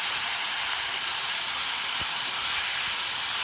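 Pineapple pieces dropped into a hot pan with ghee for pineapple shira, a steady loud sizzling hiss filling the whole stretch with a faint thump as the fruit lands.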